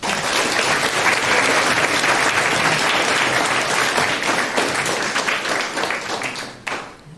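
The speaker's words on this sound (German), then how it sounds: "einen ganz tollen Applaus für Political Block" Loud, dense applause fills a room as an audience at a youth hackathon's final presentations claps continuously, then tapers off with a few last claps.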